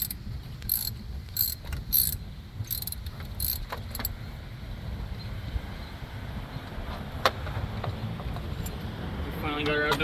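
A ratchet works a corroded alternator bolt out of a Mercedes E320 in a parking lot, producing quick bursts of metallic clicking early on, followed by quieter mechanical ticks over a steady outdoor background hum.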